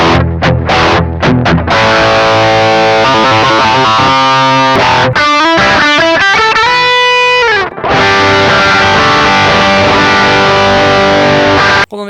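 Gibson ES-335 electric guitar played through a VOX Valvenergy Cutting Edge tube preamp in cab-sim line mode, knobs near noon: loud, continuous distorted high-gain chords and riffs, with a brief pause near the end.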